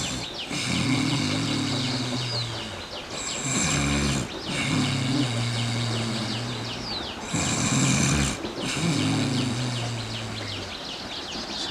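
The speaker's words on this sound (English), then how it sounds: "The snoring sound leads to the Ujjayi Pranayama." Ujjayi pranayama breathing through a tightened, constricted throat, giving a raspy, snoring-like rush on each breath, repeated in about three long cycles with brief pauses between, steady and close with no talking.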